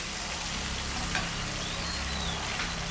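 Mackerel fries in hot oil with a steady, dense sizzle that stays loud and even throughout.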